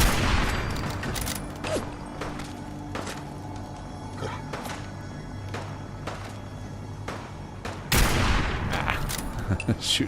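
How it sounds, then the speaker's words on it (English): Sim Settlements 2 gunfire pops repeatedly across the scene, sharp single and clustered shots over a steady game ambience, with a louder flurry near the end. "Shooting blindly through the grass"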